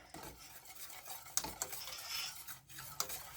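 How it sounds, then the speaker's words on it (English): A spoon stirs and scrapes ingredients for cream of chicken soup in a pot, with soft swishing and a few sharp knocks against the side. Close and quiet, with a faint sizzle underneath and no speech. "And then I'm going to mix this together."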